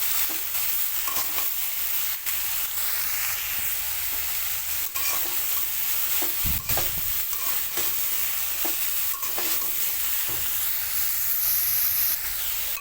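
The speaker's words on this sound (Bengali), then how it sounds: "নুন আর হলুদ দিয়ে দিলাম দিয়ে আলু আর সয়াবিনটা ভালো করে ভেজে নেব" Potatoes and soya chunks fry together in a pan with salt and turmeric, giving a loud, dense, hissing sizzle throughout, punctuated by regular scraping and knocking from stirring.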